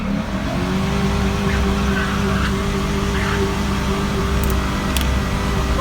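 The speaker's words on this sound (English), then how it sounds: "That was a huge burnout." A Chevrolet Silverado truck with rod knock does a burnout nearby, its engine holding a loud, sustained roar with steady tire noise throughout and no voices.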